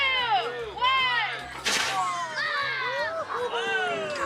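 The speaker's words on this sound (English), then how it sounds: "Yes, that's the pumpkin cannon." A pumpkin cannon fires a single sharp, booming blast amid loud voices and cheering from a crowd, which continue before and after it.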